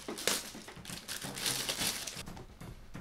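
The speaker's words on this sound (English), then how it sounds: "comes in a nice plastic bag. And we're just gonna go ahead and rip this." Crinkling and crushing of a plastic bag being ripped open to unbox 64 Audio A6t custom in-ear monitors, a close, busy run of rustles and tearing crackles with no talk.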